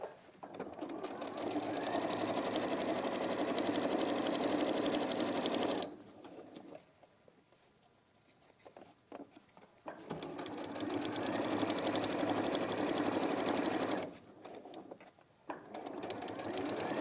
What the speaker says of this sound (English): So you're going to sew.